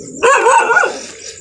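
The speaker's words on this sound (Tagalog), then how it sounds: "marami pong aso dito sa daanan mga karitual." A stray dog barks on a roadside, a loud, close yelping bark followed by a drawn-out whining howl that fades over about a second.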